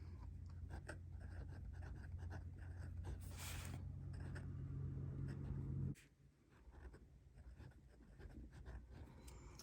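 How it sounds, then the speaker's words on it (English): Fountain pen nib of a Platinum 3776 Century scratching over paper with steady feedback, continuous faint strokes over a low background hum that drops away partway through, no talk. "I'll be quiet so you can listen to that feedback there"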